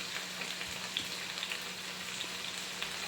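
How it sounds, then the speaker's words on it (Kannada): Chicken hariyali tikka fries in a pan over a low flame, giving a soft, even, continuous sizzle with faint crackles and no talking. "ಜಾಸ್ತಿ ಉರಿ ಕೂಡ ಕೊಟ್ಟಿಲ್ಲ, ಕಮ್ಮಿ ಉರಿನಲ್ಲೇ ಬೇಯ್ತಿದೆ ಇದು"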